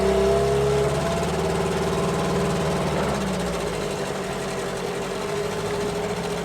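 A small boat engine of questionable condition runs up from low revs, a close, buzzing, rattling drone whose pitch shifts early on before settling into a steady run.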